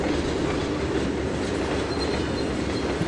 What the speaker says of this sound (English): The train drives differently when it's weighted down